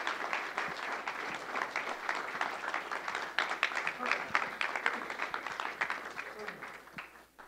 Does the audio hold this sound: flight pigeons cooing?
no